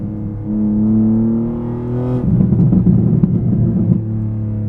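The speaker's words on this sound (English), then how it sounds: "the noise that this car's making on the outside" A 2024 BMW M2's exhaust drones low, then swells into a deep, rumbling roar as the engine revs, steady and loud throughout.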